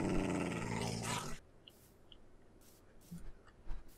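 Dogs growling in a Terra Firma Craft Minecraft modpack, a loud rough snarling burst at first, then quieter scattered grunts and small noises after it stops.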